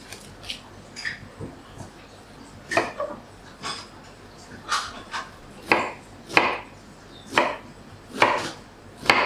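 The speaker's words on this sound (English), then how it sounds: "Let's chop all the vegetables up and get ready for stir fry." A knife chops onion, pepper and other vegetables for a Thai beef stir fry with oyster sauce, giving irregular crisp taps on a cutting board that come faster and louder toward the end, close by with no talking.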